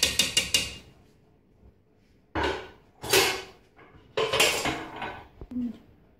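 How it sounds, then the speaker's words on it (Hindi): Metal pots and a pressure cooker lid clank and knock during preparation of mutton karahi: a rapid burst of bright rattles, then several separate heavy metallic clacks and thuds, fairly close with quiet gaps between. "ये मैंने प्रेशर कुकर बंद कर दिया है,"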